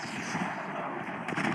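Rapid gunfire from the video game Blitz Brigade, a sustained loud rattle of shots running through the whole stretch, with a sharper crack near the end.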